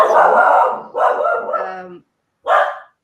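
A pet dog barks and yelps nearby in several loud, rough bursts, with a short pause before a final bark; no talk over it.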